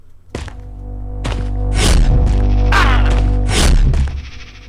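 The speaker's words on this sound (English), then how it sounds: "So when I go in, I'll have that power sound." Power line hum ambience in an Unreal Tournament 4 editor map, a low steady electrical drone with heavy thumping bursts layered over it, loud and close.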